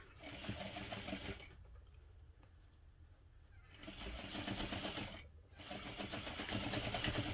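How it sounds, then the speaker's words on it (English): Sewing machine stitching panels of a fabric backpack, running in loud steady bursts of rapid stitching with a couple of short pauses between runs, close and alone. "And don't sew through your fingers."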